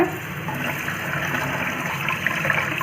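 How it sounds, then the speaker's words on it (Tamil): Half-cooked rice being washed under running tap water while biryani is prepared: a steady, close rush of flowing water that runs unbroken from start to finish. "இதை வந்து இப்போது ரன்னிங் வாட்டரில் கழுவிக்கோங்க"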